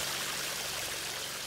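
The Salt River in Bullitt County flows in a steady, even rush of water that is faint and constant, with no voices over it.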